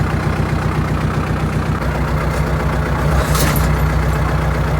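Tractor engine running steadily while plowing at night, a constant loud low-pitched diesel drone with a brief rattling clatter near the end, heard up close without talk.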